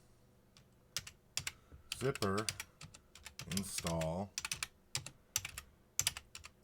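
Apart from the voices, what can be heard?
typing a command on a computer keyboard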